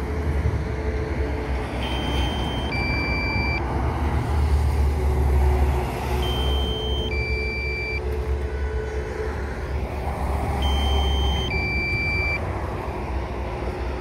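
Heavy truck traffic on the Fernão Dias highway rumbles steadily below a hovering drone in Cambuí, Brazil, with a continuous low roar and repeated high electronic beeps cutting through at intervals.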